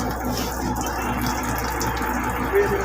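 Water drains from an air compressor tank in a continuous, steady hissing rush with a low rumble beneath, persisting without a break at moderate level.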